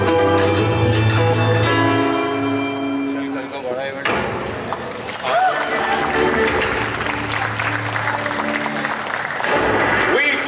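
Audience applause at the trailer launch for the Netflix series "Dabba Cartel", a crowd clapping beneath trailer music and dialogue, loud and mixed with sharp hits and voices throughout.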